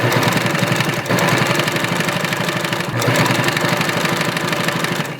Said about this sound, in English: So now we can go to the sewing machine and we are going to sew a 1/2 inch seam all the way down on both sides.